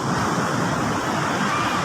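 Ocean waves wash onto a shore in a steady, loud broadband roar with wind noise, no distinct break standing out across the short stretch.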